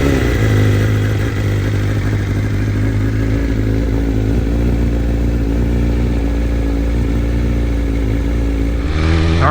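A 2023 BMW M1000RR Competition superbike engine running steadily and loudly at close range, holding a constant high-pitched idle drone throughout before a brief change near the end; no talking.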